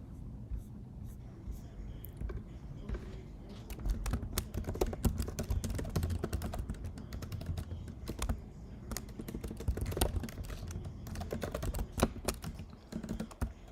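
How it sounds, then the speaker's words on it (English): Rapid clicking of computer keys being typed right beneath the microphone, an uneven clatter of close, sharp taps running throughout beneath a low murmur of speech. "Let me move my mic so you don't have to hear the keys for a second"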